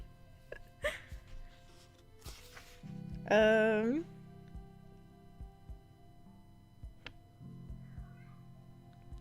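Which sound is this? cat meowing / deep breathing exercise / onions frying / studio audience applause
cat meowing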